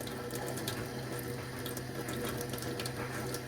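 Water runs steadily from a tap while hands soak under it during a wash with 3D-printed soap to clear differential fluid, a close, even hiss of flowing water with no talking.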